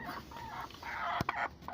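Layer chickens in a low-budget, net-walled backyard shed give a few soft clucks and brief calls. The sounds are fairly faint and close together, with no voices.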